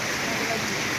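Steady, dense rain falls continuously with an even hiss, like a heavy downpour close by, with no pauses.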